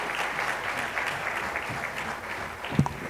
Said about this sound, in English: Let's give them a round of applause as they come.